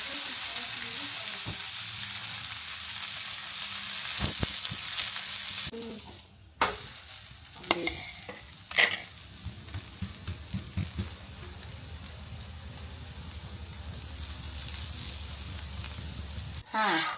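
Talipettu flatbread fries in oil on a hot tava with a strong, hissing sizzle that later settles to a softer fry, broken by scattered clicks and scrapes of a turner.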